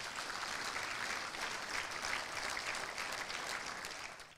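Sustained audience applause from a studio crowd on a Feyenoord club television show, a dense steady wash of many hands clapping at even loudness throughout, with no voices on top.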